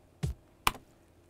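Original drum and bass kick drum sample, struck twice about half a second apart, each hit short, punchy and clicky with a quick decay, close and clean with nothing else around it.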